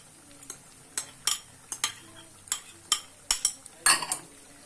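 Chopped fruit chaat with raisins, banana, guava, apple and dates is stirred in a bowl. A utensil knocks and clinks against the bowl in uneven, close taps with soft rustling between them.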